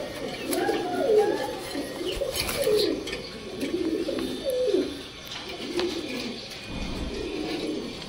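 A pair of semi jet pigeons, a brown-necked male and a green-necked female, coo repeatedly in soft rolling phrases close by, over a low background hum.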